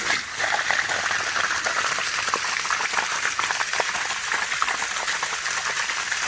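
Water from a hose-fed French drain test pours steadily out of a drain outlet, a continuous broadband rush and splash heard close and fairly loud for the whole stretch, with no talk over it.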